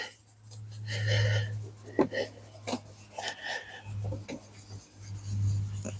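A hand rubs Autosol polish onto a yellowed Rover 75 headlight in short, scratchy strokes, the rasping coming in uneven bursts with a low hum in the background.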